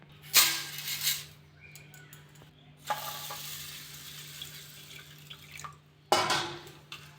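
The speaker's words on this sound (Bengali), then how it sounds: "তার জন্য আমি গোবিন্দভোগ চাল নিয়েছি। আমি চালটা ধুয়ে নেব।" Gobindobhog rice is washed in water in a home kitchen, giving splashy swishes and trickling water in a few separate bursts with quieter stirring between them, close and without talking.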